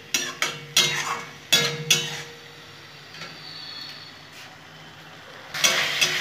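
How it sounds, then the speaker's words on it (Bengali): Potatoes tossed with spices in a pan for a foloi fish dish: a quick run of sharp spoon clanks and scrapes against the metal, a quieter stretch of soft frying, then another burst of clatter. "আমি আলুটাকে খুব সুন্দর করে নেড়ে চেড়ে ভালো করে কষিয়ে নেব মশলাটাকে।"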